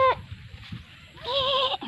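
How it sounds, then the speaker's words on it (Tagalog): A goat bleats twice up close: a short cry at the start, then a longer wavering bleat after a quiet pause. "Ay, yung kambing ni Camille"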